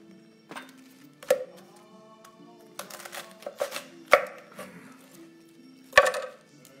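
A Kotko knife chopping carrot, celery, parsnip and cabbage on a board, a handful of sharp separate chops spaced irregularly with a brief flurry in the middle, close and fairly quiet, faint voices in the background.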